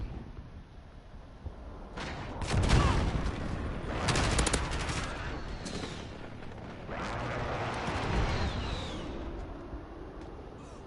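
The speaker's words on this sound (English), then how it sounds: "Enemy airstrike overhead." Airstrike explosions and gunfire in the video game Modern Warfare roll through a sustained battle din, with heavy bursts and rumbling blasts swelling around the two-, four- and eight-second marks over constant background noise.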